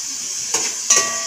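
Tadka tempering sizzling in a pan for dal, a steady close hissing fry broken by two quick bursts of stirring.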